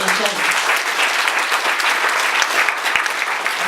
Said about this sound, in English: So you must give yourself a big clap because you now have more information.